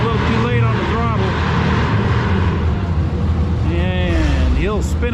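Diesel pulling truck at a fall national pull event roaring at full throttle, a loud sustained engine drone with rising whine, heavy crowd noise and an announcer-style voice over it throughout.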